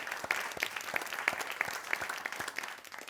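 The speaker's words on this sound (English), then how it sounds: "I want to give you a big round of applause." A small group applauding, with distinct, rhythmic claps at roughly even intervals, fairly close and modest in volume.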